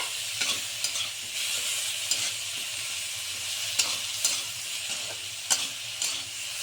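Foli fish paturi masala with brinjal is stirred in a sizzling pan, the spoon scraping in rhythmic strokes roughly every half second over a constant bright frying hiss, close by.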